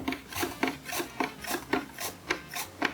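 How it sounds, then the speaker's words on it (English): Rhythmic rasping strokes of an onion sliding across mandoline blades, about a dozen quick, even passes, close and fairly loud with no talking. "just run your food across the blades"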